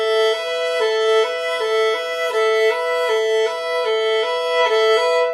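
A violin plays a two-finger hand-shape exercise, shifting steadily back and forth between two neighbouring notes in an even, sustained rhythm, close and clear with no talking.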